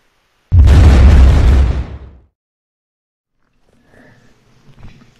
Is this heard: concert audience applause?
no